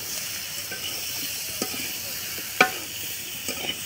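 Potatoes and tomatoes stirred in a pan of spiced masala: a constant hiss of frying with a few scraping strokes and one sharper clack of the spoon, no speech.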